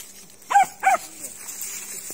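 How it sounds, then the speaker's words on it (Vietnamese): Two sharp barks from a snake-hunting dog, close by, spaced about a third of a second apart, then a quiet outdoor background. "gần nó sủa"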